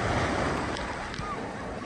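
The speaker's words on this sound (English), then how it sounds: "The waves." Ocean waves wash and roar steadily on a beach, filling the short clip with broad, continuous surf noise and some wind, while voices are faintly heard nearby.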